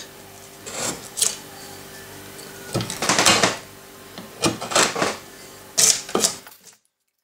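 Hand carving tool cutting and scraping wood away from a carved flower during roughing out, heard as several close, rasping strokes in short bursts with pauses between them, and no talk.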